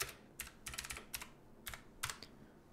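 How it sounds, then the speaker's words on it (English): Quick bursts of keystrokes on a computer keyboard, typing a post on Twitter, clatter in short irregular clusters, close and fairly quiet with no talk over them. "Typing it on Twitter."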